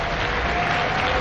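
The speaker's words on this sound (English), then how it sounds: "please give President Ruto and President Macron a warm round of applause" Audience at the Africa Forward Summit applauding the presidents of Kenya and France, a dense, steady wash of clapping that fills the whole short stretch at even loudness.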